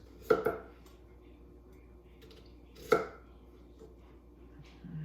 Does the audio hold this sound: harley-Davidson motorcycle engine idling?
no